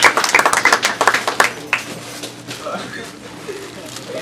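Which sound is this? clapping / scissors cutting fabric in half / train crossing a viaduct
clapping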